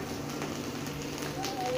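Chopped onion and green chillies fry in a pan with a steady, close sizzle and crackle that runs continuously without pause.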